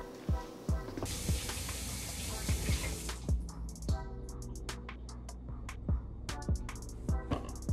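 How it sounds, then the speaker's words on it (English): Tap water runs steadily over bell peppers being rinsed in a sink, a close, continuous splashing stream that cuts off after about a second and gives way to wet handling knocks and drips. "rinse off the peppers."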